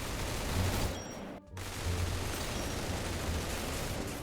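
Sustained automatic gunfire from a 75-round weapon in a shooter video game rattles on as a dense, steady stream, broken by one short pause before resuming at a fairly low level.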